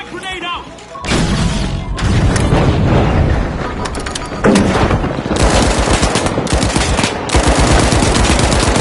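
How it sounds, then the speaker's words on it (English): A frag grenade goes off amid rapid gunfire in the video game The Finals, loud dense bursts and booms running almost continuously after a brief quieter opening. "Frag grenade out!"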